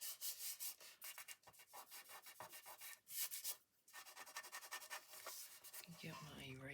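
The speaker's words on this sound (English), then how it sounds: "Get my eraser. Get that glue off of there." An eraser rubs back and forth across paper to lift glue, a close, scratchy rhythm of quick strokes with brief pauses, and a voice briefly at the very end.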